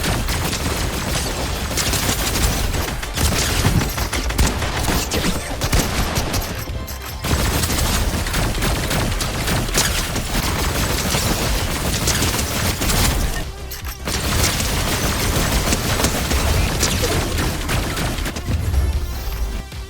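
Sustained rapid gunfire from the Overclock Pulse Rifle, a mythic weapon in the video game Fortnite Reload, loud and nearly continuous bursts with a few short breaks, with other game effects mixed in.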